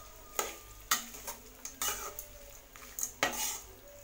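Lemon rice made with plenty of oil is stirred in a metal pan, with a series of sharp spoon scrapes and clinks at irregular intervals over a faint sizzle, close and fairly quiet with no talking.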